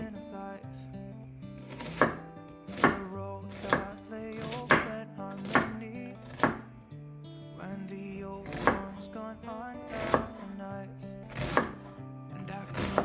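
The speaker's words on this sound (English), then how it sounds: "One onion." A knife chops an onion on a board in steady, distinct strokes, about a dozen crisp thuds spaced roughly a second apart, close and clear with no talk.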